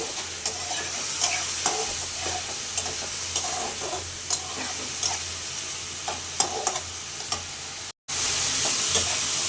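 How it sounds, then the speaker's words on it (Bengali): River shrimp fry with onions in a pan, a steady loud sizzle broken by scraping stirring strokes; no talking. "চিংড়ি মাছ দিয়ে সুন্দর করে একটু লাল লাল করে ভেজে দেব"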